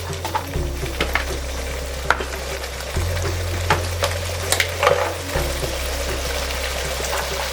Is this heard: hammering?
no